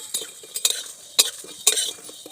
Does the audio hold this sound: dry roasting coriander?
yes